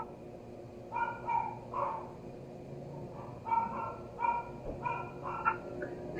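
Neighbours' dogs bark in scattered clusters of short yaps and woofs at moderate distance over a low background hum, with no talking.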